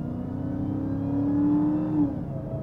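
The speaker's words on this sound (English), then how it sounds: "So this is in the eco mode. Just getting onto the throttle." A Dodge Charger Hellcat King Daytona in eco mode pulls away under light throttle, its engine droning in a smooth, rising tone that swells briefly and then eases off, heard from inside the car with no talking.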